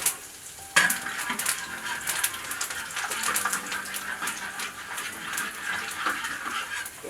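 Dried Sichuan peppercorns drop into hot oil with a sudden loud burst of sizzling after a brief quieter moment, then settle into a steady, close crackling fry with faint stirring.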